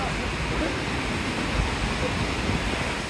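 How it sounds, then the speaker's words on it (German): Roaring waterfall in Yosemite National Park, a steady, loud broadband rush of falling water that fills the whole stretch without pause, heard close up with no voices over it. "Also da ist der Wasserfall."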